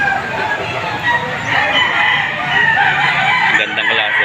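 Roosters and chickens at a busy poultry market in Padre Garcia, Batangas, crowing and clucking loudly amid a dense crowd din.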